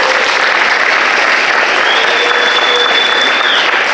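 Applause from a high school after-prom audience fills the clip, a dense steady wash of many hands clapping at close range with a faint murmur of crowd underneath.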